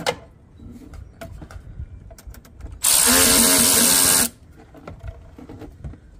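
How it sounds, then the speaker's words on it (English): Power ratchet or driver tightening hose clamps on an AFE cold air intake for a 2021 Ram TRX, a loud steady whir lasting about a second and a half, with light clanks and handling noises before and after. "put these clamps on here and just tighten these down"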